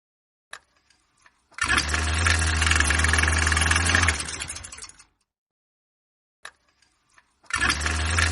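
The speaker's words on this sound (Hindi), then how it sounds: "बाइक स्टार्ट कर दी" A motorbike engine starts at night and idles steadily for a few seconds before cutting off, then fires up again near the end, loud and close with no talking.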